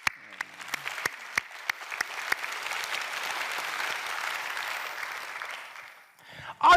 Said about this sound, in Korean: 우리 교사님께 한 박수예요.